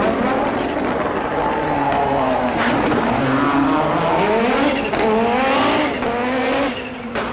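Rally car from the 1986 World Rally Championship on the roads of the Monte-Carlo rally, engine roaring loud and close as it revs up and down through gear changes, continuous for the whole stretch with no talk.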